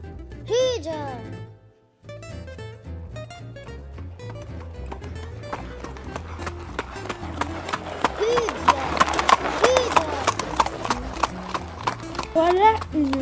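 A horse-drawn cart rolls along with steady clip-clopping hooves. The rhythmic clopping sits over background music and grows busier and louder toward the end.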